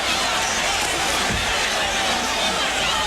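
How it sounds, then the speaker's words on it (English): A large crowd at a boxing match roars steadily throughout, a dense continuous wall of cheering and noise with no break. "Listen to that crowd."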